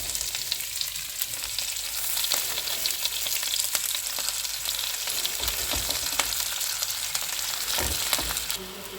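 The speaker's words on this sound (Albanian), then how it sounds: "Gjalpi është gati, do fillojmë të shtojmë spinaqin" Spinach frying in melted butter in a deep pan, a loud, steady close sizzle with occasional stirring clicks and scrapes throughout.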